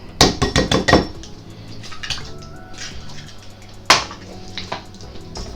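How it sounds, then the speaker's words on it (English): An egg cracked against a bowl and dropped into a mixture of oats and wet ingredients for apple muffins: a quick burst of sharp taps and clinks up front, then quieter kitchen handling and one more knock near the end. "I'm going to crack the egg into the oats mixture."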